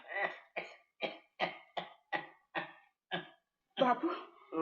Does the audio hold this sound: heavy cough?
yes